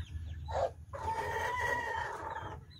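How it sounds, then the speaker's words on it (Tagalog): Hens cluck in a backyard pen while a rooster crows once, loud and close, the crow a drawn-out call following a short burst of clucking over a low farmyard background. "Ito si mga manok na to, simulat sa pool, walang nangitlog to nang walang lalaki."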